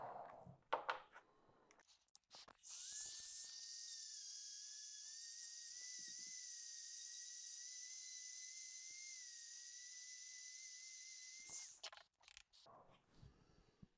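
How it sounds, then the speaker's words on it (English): A high-pitched drill whines steadily for about nine seconds, loud and close, drilling holes in foam, with brief clatter before and after. "that's how you drill those holes in"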